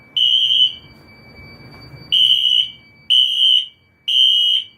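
A newly installed smoke detector sounds its fire alarm in loud, piercing high-pitched beeps: one long blast, a gap of about a second and a half, then three shorter blasts in steady succession, close by and alone.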